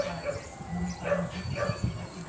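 Pet dogs give a quick run of short barks and high yips at close range, moderately loud and uneven in rhythm over two seconds.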